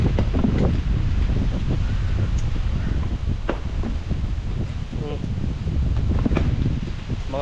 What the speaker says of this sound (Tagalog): Yan lang sa hangin ay.